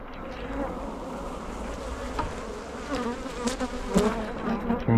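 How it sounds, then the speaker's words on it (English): Honey bees swarm thickly over the frames of an open hive colony during an inspection, producing a dense, continuous buzzing hum close by that rises slightly in intensity toward the end. "loads of bees covering all of that"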